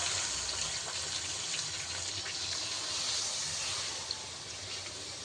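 Water poured into a pan of fish being cooked down in oil, a steady broad rushing gush that runs continuously and fairly loud for the whole stretch.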